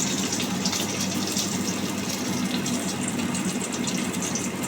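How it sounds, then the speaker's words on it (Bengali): Drumstick flower fritters frying in hot oil in a home kitchen, giving a steady, close, continuous sizzle and crackle with no break and no talking. "আর একবার বড়া ভাজতে দিলাম"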